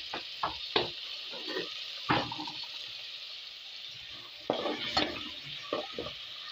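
Onions frying in a pan with a steady hiss and sizzle, broken by intermittent scraping stirs of a spoon, close and moderately loud with no voices.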